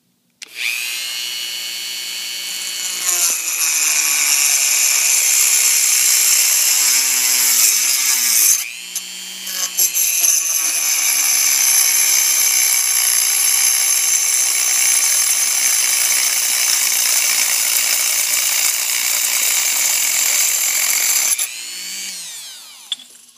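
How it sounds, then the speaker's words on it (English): Power saw cutting through a porous ceramic wick blank, a steady loud high-pitched whine running for about twenty seconds with a brief dip midway, alone with no voices. "Now that we got the hole drilled, we got to cut the blank."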